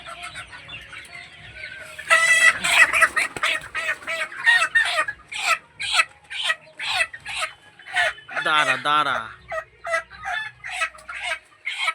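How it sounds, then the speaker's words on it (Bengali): Two-month-old chickens cluck and squawk on an animal farm, a busy run of close, sharp calls with one longer warbling cry, while a person briefly speaks. "এটা হচ্ছে মুরগি"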